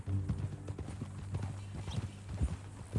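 Horse hooves clip-clop in Red Dead Redemption 2, a steady run of close, moderately loud hoofbeats over a low hum, with no talk.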